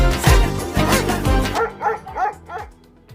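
Dog named Tommy yapping in short, punchy barks set against a beat-heavy music track, a quick run of bright yips near the end, loud and up front.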